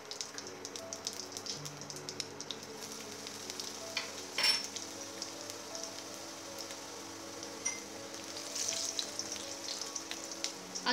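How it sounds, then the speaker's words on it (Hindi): Finely chopped garlic sizzles in hot oil with whole dried red chillies, a bay leaf and cumin, frying for a kathi kabab. The crackle is steady and soft, with a few stirring clinks and no voices. "और अब हम इसमें डालेंगे बारीक कटा हुआ लहसुन"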